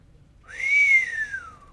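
A person whistles a single clear note that slides up, holds briefly and then glides down, alone against a quiet background.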